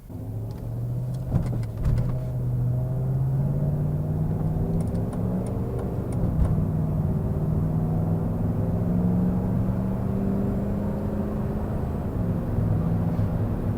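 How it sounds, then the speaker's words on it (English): A 2009 Volvo XC90 V8 Executive with 240K miles running while driving, its engine hum rising and falling steadily in tone through the cabin, loud and continuous with no talk. "I really like the sound of this engine."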